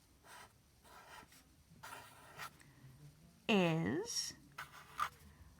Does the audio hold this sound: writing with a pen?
yes